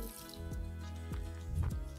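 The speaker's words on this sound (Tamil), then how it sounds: "ஊற்றி பிணைஞ்சிக்கலாம். பச்சை தண்ணி தான்" Cold tap water poured into murukku (thenkuzhal) dough as it is mixed, giving close, wet dripping and squishing sounds in an uneven stream with no talking.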